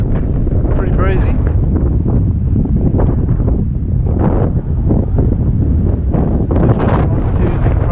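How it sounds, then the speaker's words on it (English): Strong, constant wind buffets the microphone at a gliding airfield on a breezy June day, a loud continuous roar with low-frequency rumble that never lets up, while people talk faintly nearby. "Pretty breezy."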